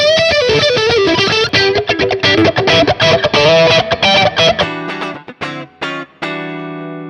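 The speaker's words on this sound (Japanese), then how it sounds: "これで同じように歪みを出すと" Electric guitar played through two chained distortion effect pedals, a heavily overdriven run of chords and notes, then sparse stabs with short silences between them.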